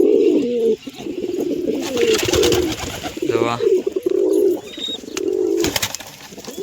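Pigeons coo in low, rolling phrases, repeating several times close by, with a brief rustle and a faint chirp mixed in.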